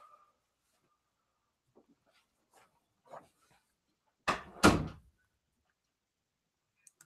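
An indoor door is pushed shut during a live stream, a loud close thud with a quick rattling second impact, preceded by a few faint scattered clicks and bumps in an otherwise quiet room.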